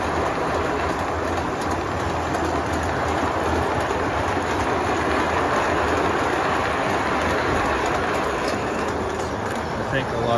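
A standard gauge toy train runs along its track at a train collectors' show, a steady dense rumble and clatter that continues throughout, with faint voices mixed in.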